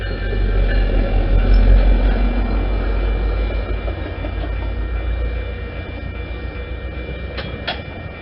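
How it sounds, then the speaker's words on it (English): A UTA northbound commuter train pulls out of North Temple Station bound for Ogden, a steady loud rumble of rail cars with faint clicking, easing slightly as it moves off, no voices. "Here we see a northbound train departing from North Temple Station,"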